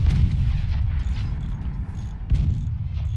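Tier 3 mortar cannons fire in a video game, giving repeated heavy low booms and rumbling blasts that overlap in a continuous barrage with occasional sharper hits.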